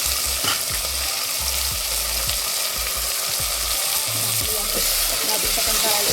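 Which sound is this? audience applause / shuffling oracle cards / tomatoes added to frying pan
tomatoes added to frying pan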